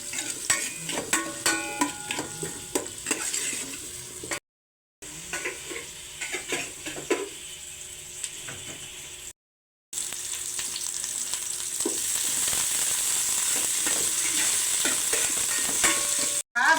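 Onions sizzling in a pan with ginger while cooking crab, stirred with clinking, scraping strokes, steady close frying hiss growing louder toward the end, brief gaps of silence, no talking.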